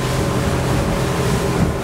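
A 2021 Nimbus T9X motorboat running through ocean swell and light wind chop, a loud steady engine drone blended with rushing water and wind, constant and close, with no voices.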